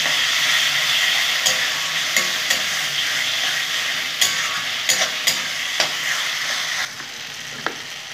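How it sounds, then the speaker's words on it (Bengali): Beans, tomato and peas drop into a hot pan of Bengali bean and lentil dal and sizzle steadily, with a few sharp clacks of a spoon against the pan throughout. "আমি যে সিম, টমেটো, মটরশুঁটি সেগুলো দিয়ে দেবো"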